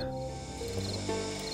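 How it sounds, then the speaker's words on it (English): Crickets chirp in a night scene of the survival game 7 Days to Die, a steady, moderately loud ambient trill of insects running alone with no talking. "Listen to those damn crickets chirping, cricketing around."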